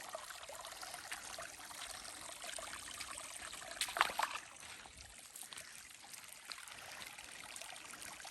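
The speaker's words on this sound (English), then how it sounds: "Got a little waterfall action going there." A small waterfall along a bright green backcountry hiking trail in the Great Smoky Mountains gives a steady, fairly quiet rushing wash, with a slightly louder surge midway and no voices.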